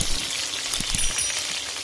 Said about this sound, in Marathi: मिरच्या चांगल्या परतून घेऊ